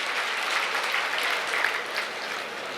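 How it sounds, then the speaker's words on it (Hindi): Dense, steady applause from a large crowd at an election rally for Chief Minister Nayab Saini, a continuous wash of clapping with no break. "एक बार जोरदार ताली बजाएं हम माननीय मुख्यमंत्री नायब सैनी जी"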